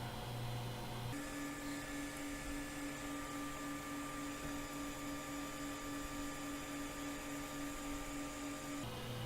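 3D printer extruder motor pushing filament during nozzle maintenance, a faint steady electric whine with tonal hum that starts after about a second and runs evenly for roughly eight seconds before stopping.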